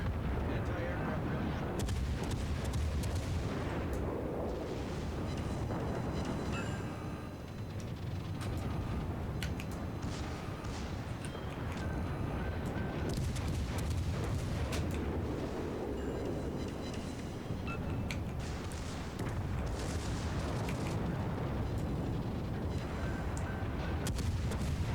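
Defensive fire weapons blasting continuously in a spaceship combat game, a dense rumbling barrage of heavy booming shots with crackling hits layered throughout, loud and unbroken for the whole stretch.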